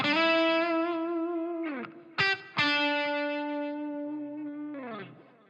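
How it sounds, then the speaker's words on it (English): An electric guitar plays through an Ampli-Firebox modeled Plexi amp set to a fairly high gain, giving sustained distorted chords that ring out, change and ring again, loud and close with no talk. "So here's the Plexi with pretty good amount of gain on it."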